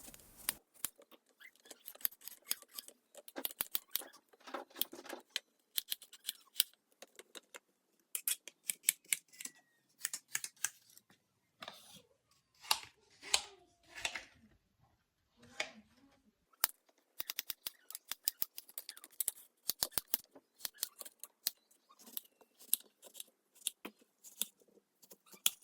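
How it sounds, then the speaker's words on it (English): A knife slices apples for an apple pie in quick, close, crisp cuts, dozens of short clicks and crunches in irregular bursts with brief pauses, no talk. "I'm gonna start slicing my apples."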